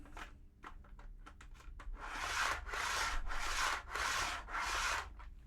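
A TT120 model train rumbles along track laid on cork over foam with a loud, rhythmic rushing noise pulsing in even bursts, following a few lighter clicks at the start.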